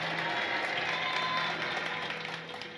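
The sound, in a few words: congregation clapping loudly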